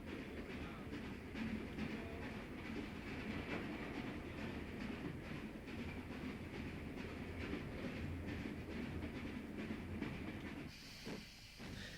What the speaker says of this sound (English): The Southern Railway V class of locomotives were always known as the schools